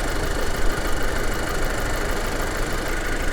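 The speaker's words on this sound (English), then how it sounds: "listen to it. Okay, so there's still a little bit of lifter noise. The timing chain, I can hear the tensioner wearing in." A rebuilt Audi A4 engine runs steadily up close, a continuous idling drone carrying faint lifter ticking and timing chain tensioner noise throughout.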